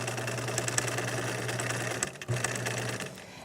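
A sewing machine stitches a longer straight stitch on practice fabric, a loud, close, continuous motor hum with rapid rhythmic needle clatter and a short hitch near the end.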